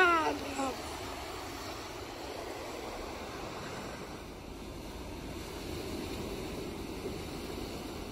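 Ocean waves wash onto a beach in a soft, steady surf roar, with light wind noise and no distinct breaks, fairly faint and continuous throughout.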